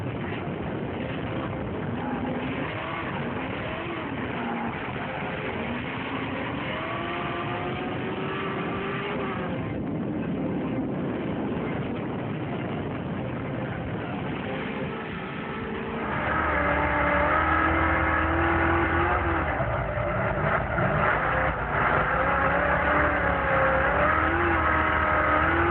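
A Nissan 350Z roars through drifting runs, its engine revving hard and continuously with rising and falling pitch, loud and up close, a surge of heavier throttle partway through, no voices.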